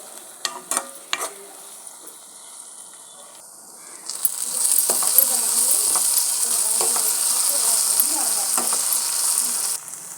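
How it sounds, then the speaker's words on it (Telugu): Onions frying in a pan for a prawn curry, a steady loud sizzle from about four seconds on after a few quieter clinks and stirs, with no talk. "బాగా అయితే ఆనియన్స్ ఫ్రై అయిపోయినాయి."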